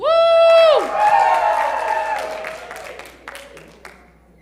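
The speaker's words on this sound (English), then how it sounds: "And one final round of applause for our judges" A school singing-competition audience applauds and cheers for the judges, a broad wash of clapping and whoops rising under a loud sustained sung or electronic tone that cuts off, the crowd noise then fading gradually.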